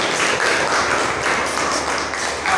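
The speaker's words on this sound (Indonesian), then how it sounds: "Kasih tepuk tangan untuk kelompok 2." A class of students claps for a presenting group in a classroom, a loud, dense, continuous wash of hands, with no clear beat and no break.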